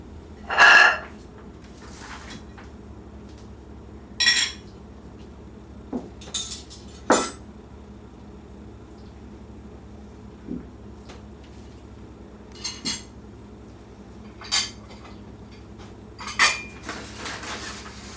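Silverware, dishes and glasses clinking as a formal dinner table is set for dessert, in separate sharp clinks and taps spaced a few seconds apart over a quiet room hum.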